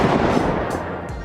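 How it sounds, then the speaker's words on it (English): G18 pistol fired in a VR video game, a dense burst of loud, close automatic gunfire with sharp cracks rolling together over just over a second, with no voice. "To shoot the gun, all you have to do is just make a fist."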